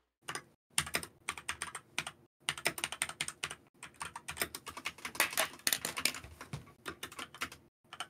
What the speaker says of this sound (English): I don't think you're typing loud enough